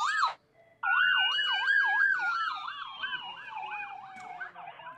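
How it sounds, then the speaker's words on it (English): Fire truck and ambulance sirens sweep up and down, then drop into a long descending wail, loud and nearby as the vehicles go past. "fire truck coming through, an ambulance."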